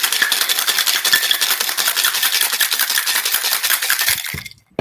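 Cachaça cocktail shaken hard with a lot of ice in a shaker, a dense, fast, steady rattle of ice cubes that runs loud for about four seconds and then stops abruptly.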